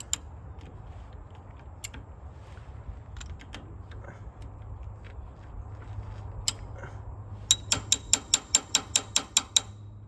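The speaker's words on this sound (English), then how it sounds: "Good snap-on socket, give it a little beating." A Snap-on socket ratchet clicks away on a tractor injector, with scattered metallic taps at first, then a quick, even run of close, crisp ratchet clicks near the end.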